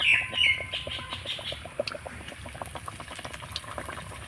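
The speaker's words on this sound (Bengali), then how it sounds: "তো আমি এখানে দুটো করে ভেজে নিচ্ছি" Snacks of potato and flour, two at a time, fry in plenty of hot oil in a wok, giving a soft, steady bubbling crackle with scattered pops. A faint chirp sounds at the start.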